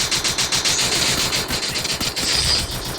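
Rapid automatic gunfire rattles continuously in a video game, dense bursts with mechanical clatter and no voices.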